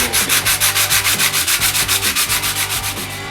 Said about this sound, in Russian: Прошло столько времени, а я все шлифую.